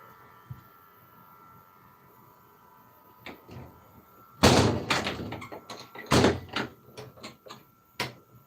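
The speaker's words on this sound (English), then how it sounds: "I'm gonna go close the door now" A door is pushed shut indoors with a pair of loud thuds and rattles, followed by a few softer knocks and clicks in a quiet room.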